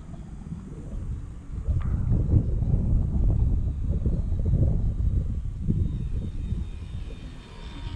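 A model trainer airplane running on a 2S battery flies overhead in a moderate breeze, its small electric motor droning steadily and fairly loud while wind buffets the microphone.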